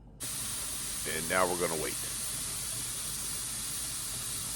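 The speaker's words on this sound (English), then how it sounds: "You don't always see the steam, but when you can feel it 12 to 18 inches above the pot coming out pretty strong, that's a strong vent." A pot roast cooking pot vents steam in a steady, strong hiss that runs throughout, with a person speaking briefly over it partway through.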